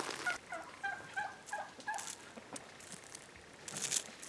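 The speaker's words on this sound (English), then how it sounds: "Glad to see the chickens in the garden." Chickens out in a garden coated in ice give short, scattered clucks and gobbling calls, fairly close and fairly quiet, with small crinkling sounds between them.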